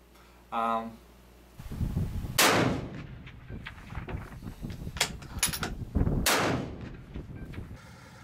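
Two loud, close rifle shots fired at a 400-yard target on a shooting range, each a sharp crack with a short rumbling tail, amid handling noise and a brief electronic beep at the start.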